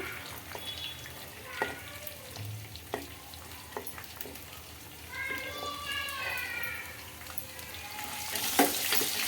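Onions cut lengthwise softening in hot oil, a soft steady sizzle with occasional stirring taps and scrapes, close by, while a person talks over the cooking.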